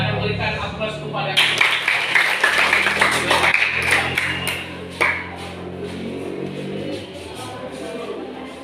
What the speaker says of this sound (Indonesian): Silakan berikan aplaus kepada